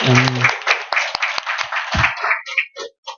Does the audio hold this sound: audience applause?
yes